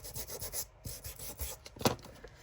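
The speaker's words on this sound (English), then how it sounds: "And then do a little bit of sanding." Soft, quick rubbing strokes of sanding paper edges, a rhythmic scratchy rasp repeating close by and fairly quiet.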